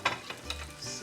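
Greek meatballs (keftedes) sizzle as they fry in a pan. A short burst of hissing frying is heard at close range, with a few soft clinks or stirring sounds and no talk.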